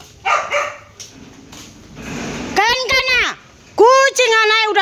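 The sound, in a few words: dog barking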